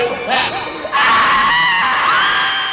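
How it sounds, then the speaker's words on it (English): Crowd of audience members screaming and shrieking together, loud and sustained, swelling after a brief opening burst into a continuous wall of high-pitched yells. "Scream with all your might."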